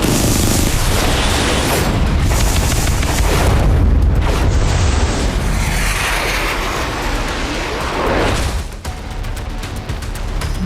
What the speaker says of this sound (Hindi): वॉरशिप से मिसाइल निकली और टारगेट को सेकंडों में ध्वस्त किया